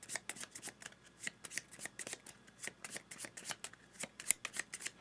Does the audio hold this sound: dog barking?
no